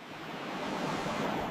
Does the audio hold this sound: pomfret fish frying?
no